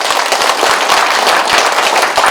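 A candidate debate audience for a county head election in Gangwon breaks into loud, dense applause, a continuous burst of many clapping hands close by with sharp individual claps standing out.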